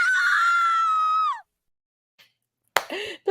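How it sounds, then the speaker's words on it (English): Ned Flanders from The Simpsons lets out a long, loud wavering scream that falls off sharply after about a second and a half, followed by silence and then brief bursts of clattering sound. "The Flanders scream."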